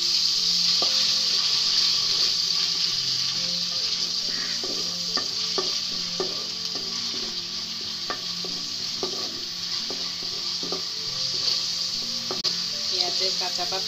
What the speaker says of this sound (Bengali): আদা বাটা, রসুন বাটা দিয়ে দিচ্ছি